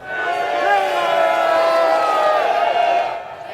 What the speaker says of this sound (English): giving a lot of cheers, a lot of waves